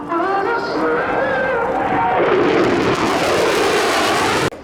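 A PACAF F-16 demo team jet flies past, a loud, steady roar with shifting engine whine that swells and thickens midway, then cuts off abruptly near the end.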